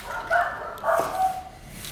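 Several dogs with separation anxiety bark in short bursts indoors in an apartment, a few yaps and whimpery barks rising and falling at moderate distance, with no talk over them.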